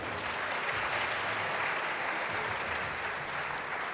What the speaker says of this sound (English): Please applaud Mr. Samuel Sapon.